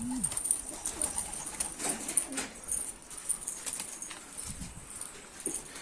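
Mardin play pigeons coo softly and faintly in a quiet outdoor setting, with scattered soft knocks and a thin high background tone.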